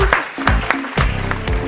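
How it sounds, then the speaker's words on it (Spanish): An audience applauds in a burst of sharp, fairly loud claps over a sustained tonal background. "recibimos con un fuerte aplauso."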